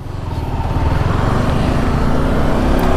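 A Yamaha R15 V4 motorcycle riding along, with a loud, rising engine drone blended with wind rush, close and continuous, no voices.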